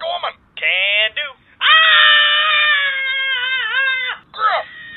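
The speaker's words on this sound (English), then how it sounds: "Scream like a woman!" A man gives a long, high-pitched, shrill scream like a woman in a comedic animated battle scene, broken into a few short bursts and one sustained wavering shriek, loud and close.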